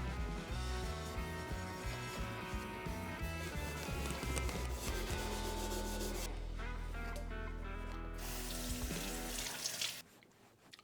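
Stainless steel cookware is scrubbed by hand to remove yellow staining, a close rhythmic rubbing that runs steadily with music-like tones underneath before ending abruptly near the close.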